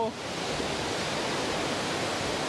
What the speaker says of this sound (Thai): อันนี้เป็นบริเวณน้ำตกนะทุกคนดู